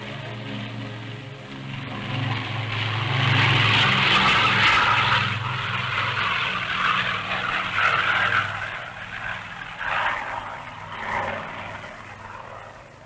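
Aircraft propeller engines roar loudly during takeoff, a sustained, heavy drone that swells and then holds with slight fluctuations, with no voices over it.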